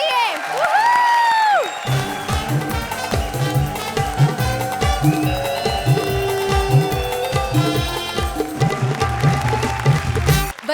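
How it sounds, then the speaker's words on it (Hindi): A studio audience at the Comedy Circus comedy show claps in a steady rhythmic beat and cheers, with a whoop near the start and a voice briefly heard before the applause swells and carries on loudly. "जोरदार तालियां कपिल और कविता के लिए।"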